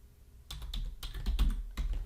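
Keys clatter on a computer keyboard as a Pinterest search is typed, a quick burst of close, crisp clicks in an uneven rhythm with no talking.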